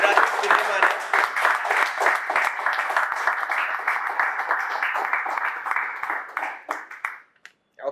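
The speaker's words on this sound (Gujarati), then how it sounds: "ખૂબ બધી તાળીઓ વિજય માટે" An audience claps for Vijay on a Gujarati talk show, with a warm burst of applause that holds steady, then thins out and stops near the end, while voices speak over it.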